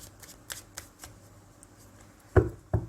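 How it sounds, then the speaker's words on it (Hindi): Tarot cards being shuffled by hand, a few soft riffling flutters early on, then two louder, sharper riffles near the end, with no talking. "final shuffle"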